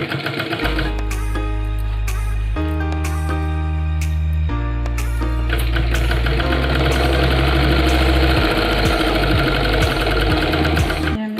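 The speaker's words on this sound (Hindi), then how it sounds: "और इसके ऊपर सिलाई लगा लेनी है" A sewing machine runs steadily, stitching a fold of fabric for girls' trousers, its loud mechanical hum and rapid needle chatter pausing briefly and restarting in continuous bursts, close up with no talking.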